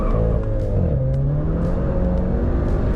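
A Stage 2 tuned MK7 VW GTI, FBO-modified with larger tires, accelerates hard from a standstill to 60 mph, its engine drone climbing steadily in pitch through a gear change, loud and close throughout.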